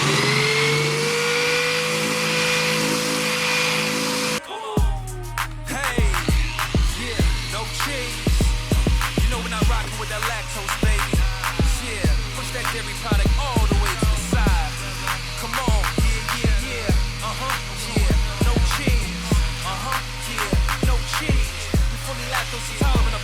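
An Eastwood Contour SCT surface-conditioning tool grinds mill scale off steel, its motor whining loudly in repeated passes with a rhythmic, pulsing scrape, after a brief steady hum.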